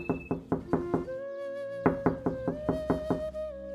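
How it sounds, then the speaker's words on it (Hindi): Knocking on a wooden door comes in quick sets of sharp raps, a pause, then another run of knocks, close and clear, with a sustained musical tone playing underneath. "तभी कुछ समय बाद दरवाजे पर खटखटाने की आवाज आती है।"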